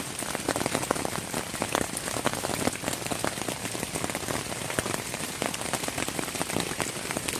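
Rain patters steadily on a tent at the Devil's Backbone Brewery campsite along the Appalachian Trail, a dense, continuous drumming of drops close overhead with no talking.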